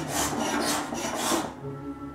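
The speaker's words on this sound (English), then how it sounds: "we'll be using the cabinet scraper" A cabinet scraper drawn across wood while building a 19th-century clerk's desk base, making a close, soft rasping swish in several repeated strokes that fades out near the end.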